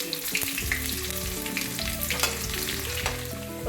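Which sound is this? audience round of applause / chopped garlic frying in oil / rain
chopped garlic frying in oil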